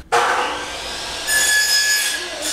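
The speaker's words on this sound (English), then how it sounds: "So what I'm gonna do is go out and cut myself a few little connecting pieces." Short plumbing connecting pieces being cut with a saw: a brief pause, then steady rasping strokes that brighten partway through, close and fairly loud, with no talking.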